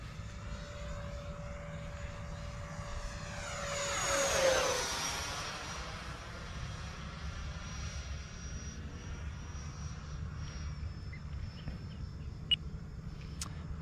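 An E-Flite F-16 Thunderbird 70mm electric ducted-fan model jet flies overhead, its whining roar swelling as it passes closest and then fading to a steady distant drone.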